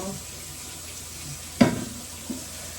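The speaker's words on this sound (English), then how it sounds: "I'll wash my hands." Hands being washed under a running kitchen tap: a steady hiss of flowing water throughout, with a sharp splash or clatter partway through and a smaller knock near the end.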